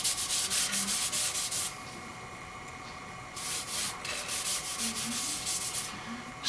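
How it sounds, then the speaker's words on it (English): Sandpaper rubs against a spinning hackberry wood bowl on a lathe, the wood wetted with mineral oil, starting at 120 grit; steady close rhythmic rasping in bursts with a brief quieter pause midway. "just applying some mineral oil so that I can sand it without all of that dust"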